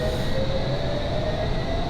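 An S7 Stock District Line train in Train Simulator 2019 pulls away with a steady rumbling drone and a faint whine, continuous and fairly loud with no talk.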